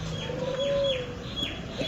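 Ali-breed pigeons coo softly nearby in their loft, with low rolling calls over a quiet background and a few faint chirps mixed in.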